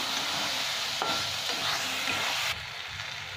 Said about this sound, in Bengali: এবার খুব ভালো করে এটাকে আরও ভেজে নেবো 2-3 মিনিট।